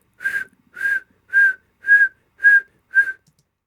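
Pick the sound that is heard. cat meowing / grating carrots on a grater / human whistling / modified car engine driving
human whistling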